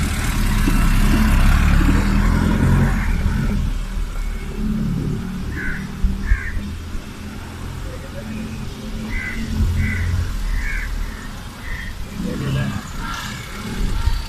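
A car driven by a student at a Bangladesh Army driving training centre rumbles at a low, steady engine level beneath continuous talking.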